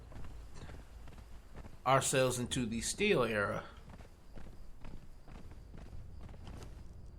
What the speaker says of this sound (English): Let me go ahead and do this while I'm on the horse.